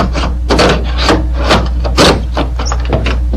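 A thin metal Slim Jim lockout tool scrapes and rubs against the rubber weather stripping of a truck door in a series of close, rhythmic rasping strokes.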